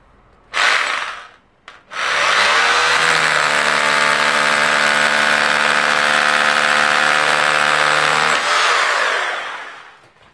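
A power drill bores a hole in masonry to take a chemical anchor, with a short burst followed by a long, loud, steady high-pitched whine for about eight seconds before stopping, close and without talk.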